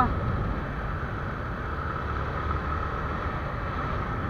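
A Yamaha Sniper motorcycle engine roars in a steady, loud, sustained revving drone. It stays close and fairly even from start to end, with wind buffeting the microphone.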